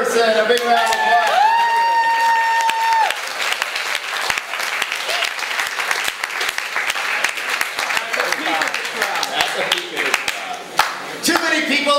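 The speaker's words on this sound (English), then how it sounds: "a big round of applause." Loud, lively crowd applause and clapping at a Vancouver poetry slam, with tonal cheering or whooping over the opening seconds, then the clapping carries on unevenly under a voice talking.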